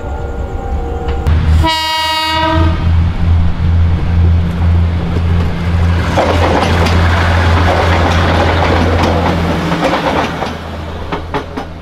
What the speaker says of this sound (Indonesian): Ini jadi ada kereta pejabat lewat.